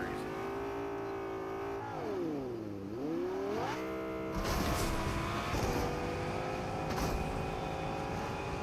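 Car engine in the Fortnite video game, a steady revving drone that dips and swells as the vehicle cruises and catches air, with rougher bursts later, alone without talk.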